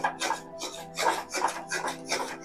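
A milk powder mixture for gujiya sandesh is stirred in a pan in steady rhythmic scraping strokes, about five per couple of seconds, fairly close and quiet with no talk.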